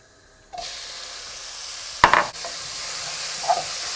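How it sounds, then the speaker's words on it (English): Chopped onions hit hot oil with cumin seeds with a sudden sizzle that keeps crackling steadily, broken by a brief louder burst of stirring or spattering. "while the onions are sizzling away"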